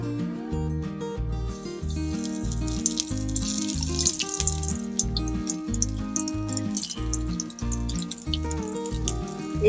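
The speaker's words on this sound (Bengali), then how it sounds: "আমাদের তেলটা গরম হয়ে গেছে, এইবার পকোড়াগুলো ছেড়ে দেব।" Cauliflower pakoras dropped into hot oil fry with a soft, continuous sizzle and crackle under a steady background of music.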